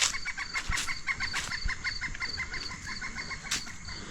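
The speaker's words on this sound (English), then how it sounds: "A lot of birds and animals you can hear off in the distance" Chickens cluck in a rapid, repeating chatter at a moderate distance, with an occasional louder squawk breaking through the steady outdoor background near a rural Kentucky cemetery.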